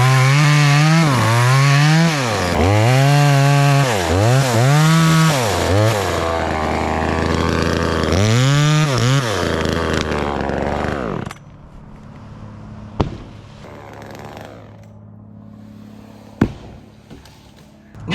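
A loud $135 chainsaw cuts through a big piece of wood, its engine rising and falling in repeated surges before dropping to idle, followed by a few sharp thuds.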